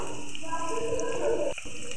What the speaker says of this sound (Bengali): একই রকম ভাবে আবারও ভাজছি।